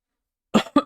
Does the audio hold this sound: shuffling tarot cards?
no